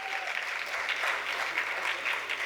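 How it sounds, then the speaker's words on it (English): Steady audience applause at a Navratri Utsava festival gathering, a dense wash of many hands clapping at moderate distance, continuous throughout with no voices over it. "Give a round of big applause"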